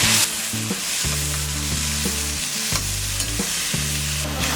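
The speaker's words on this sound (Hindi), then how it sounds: "सब वेजेस फ्राई होने के बाद हम डालेंगे ये टमाटर, मिक्स कर देते हैं।" Tomatoes are stirred into vegetables frying for Mumbai-style tawa pulao, giving a loud, busy sizzle and scraping over a steady low hum, with no talking.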